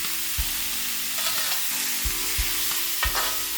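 Beef and broccoli stir-fry in a hot wok with a constant crackling sizzle, punctuated by several loud metallic clanks and scrapes of a spatula tossing the food; no voices.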